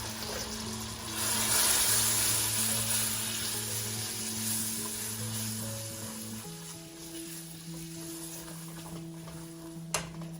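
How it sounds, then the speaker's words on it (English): Steady hissing sizzle of a tablespoon of bourbon hitting a hot pan of caramelizing bananas, loudest early on then settling, with a low hum underneath and a single sharp click near the end. "tablespoon of bourbon, sizzle and pop."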